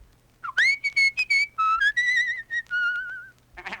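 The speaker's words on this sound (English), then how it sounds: "Boy, do I love whistling." A cartoon boy whistles a lively, melodic tune alone in a children's television sketch, a string of clear, close tonal phrases with short gaps and a brief noisy burst at the end.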